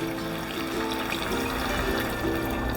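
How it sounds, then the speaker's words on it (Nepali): Water poured onto mutton in a pressure cooker makes a steady, close splashing pour that lasts about three seconds without pause. "मैले 1 कप पानी राखेँ।"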